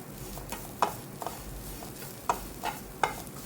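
Banana, coconut and sugar filling stirred in a pan, a faint soft sizzle broken by a few sharp spoon scrapes and taps at irregular intervals, close and quiet with no talking.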